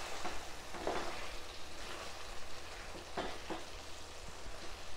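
A spoon stirs thick, bubbling eggplant masala gravy with chopped green coriander in a hot pan, giving a continuous soft sizzle broken by a few brief scraping strokes.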